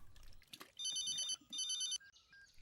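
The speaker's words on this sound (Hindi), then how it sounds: "हेलो कार्तिक, बोलो कैसे फोन किया?" A telephone rings in two short electronic bursts, a bright trilling tone heard close and clear over a quiet room.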